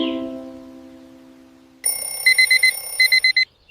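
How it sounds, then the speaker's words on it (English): An alarm clock rings in rapid bursts of high electronic beeping, loud and close, after a fading tone at the start. "I turn off my alarm."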